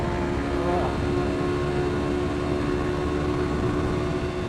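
A Kawasaki Ninja 400 motorcycle engine drones at full throttle in 6th gear, a loud, steady, continuous roar heard close up from the rider's position on a track.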